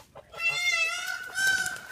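Mother goose honking in short nasal calls close by, a few tonal cries over about two seconds with little else around.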